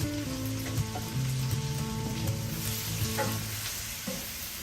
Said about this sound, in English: we're going to put the mushrooms back in here